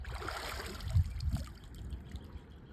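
Water bubbling and gurgling while a multi-stage pump is primed, a continuous soft trickling wash with a couple of low glugs near the middle, close by and steady.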